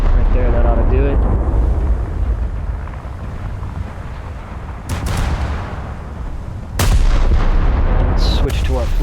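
Naval artillery in World of Warships as a Scharnhorst battleship fires on a Chapayev cruiser: heavy booming salvos, one sharp blast near five seconds and a louder one near seven, over wind and sea rumble, with someone talking between shots.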